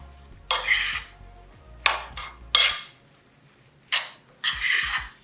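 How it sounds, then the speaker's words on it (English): A spoon scrapes and clinks through chunky pico de gallo in a bowl in several bursts of stirring with short pauses, close and wet-sounding. "So now we can just stir all this up"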